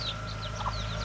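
Chickens cluck in a crate on a farm, with short, chirpy calls rising over a steady low mechanical hum.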